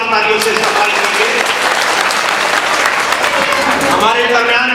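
Loud, continuous applause from the audience at an All India Mansoori Society district conference welcoming guests, with a voice speaking over the clapping at times.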